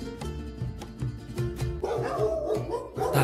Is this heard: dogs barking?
yes